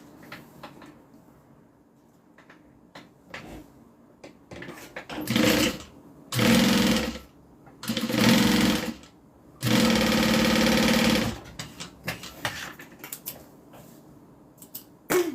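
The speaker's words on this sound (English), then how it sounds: "I'm keeping the zipper also right side up, and then sew that on." Sewing machine stitching a zipper onto a pocket piece of a mini zip-around wallet, running in four loud sustained bursts, the longest near the end, with quiet handling clicks and rustles between them.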